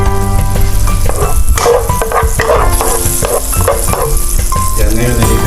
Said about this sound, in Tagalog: ngayon i-prito natin